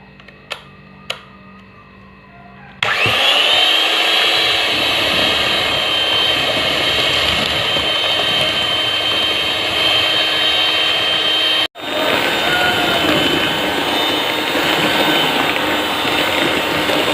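An electric hand mixer blending grated cheese for fermented cheese chips starts abruptly after a few quiet seconds with two faint clicks, then whirs loud and steady with a high whine, cutting out briefly near the end before resuming.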